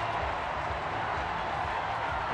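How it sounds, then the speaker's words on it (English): A baseball stadium crowd at a Rockies–Giants game in San Francisco buzzes as a dense, constant wash of murmuring voices, loud and unbroken throughout with no distinct cheers standing out. "Now this crowd's starting to buzz as they see the Panda step up to the plate."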